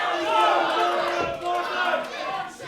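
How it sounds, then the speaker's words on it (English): Crowd at an indie wrestling show in Campbell River cheering and shouting for Krofton during a tag match, a dense roar with voices rising and falling throughout, and a commentator talking over it. "The crowd getting behind Krofton here, giving him a little bit of life"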